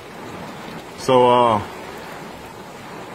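Rain falls outdoors during a lightning storm, a steady, even hiss running through the whole stretch, with someone briefly saying a word partway through.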